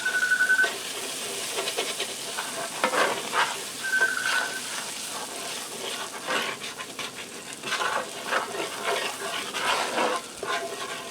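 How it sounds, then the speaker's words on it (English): Beef base being stirred and dissolved into melted butter in a pan, a steady soft sizzle with scraping stirring strokes throughout, close and moderately loud. "I'm just going to blend this all together in here and dissolve that beef base into the butter."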